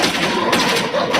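Loud, dense gunfire from a shooting video game with a pistol fills a short moment up close, with overlapping shots and thumps blending into a continuous burst.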